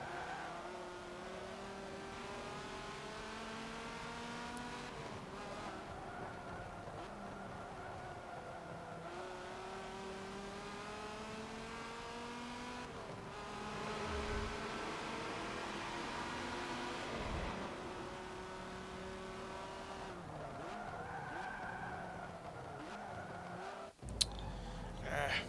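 A sport GT car in Forza Motorsport 7 revs steadily through its gears, the engine tone climbing and dropping in repeated sweeps, with a brief sharp knock near the end.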